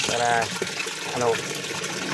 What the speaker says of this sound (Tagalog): lagyan natin ng konting tubig, para konti lang muna mga idol, para mabilis siya kumulo